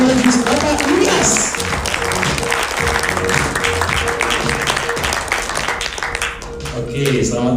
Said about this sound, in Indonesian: Mari kita sambut dengan luar biasa, dengan tepuk tangan yang luar biasa